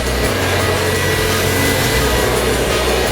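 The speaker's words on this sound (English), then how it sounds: "Turn on our blow dryer." Blow dryer running steadily on hair during a pompadour styling, a constant loud broadband whoosh of airflow with a motor hum, close and unbroken throughout with no talking.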